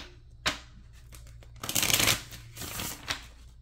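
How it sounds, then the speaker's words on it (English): Tarot cards are shuffled by hand, a sharp riffle at first, then a louder, longer run of flapping and sliding card noise with a few softer bursts afterward, close and clear. "Last shuffle."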